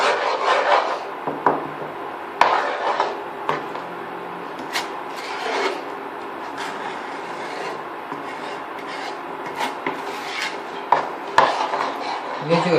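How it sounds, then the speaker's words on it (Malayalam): Sweet chow chow is stirred in a pan until thick, with repeated scraping and rubbing of a spoon against the pan and occasional clinks, close and moderately loud, no talking. "ഒന്ന് കട്ടിയാവുന്ന വരെ ഇളക്കി കൊടുക്കണം."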